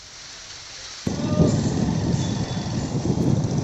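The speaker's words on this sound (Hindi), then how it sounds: "तेज गरज के साथ मूसलाधार बारिश हुई" Heavy rain beginning abruptly and pouring steadily as a dense, loud broadband wash, with a low thunder-like rumble mixed in; no talking.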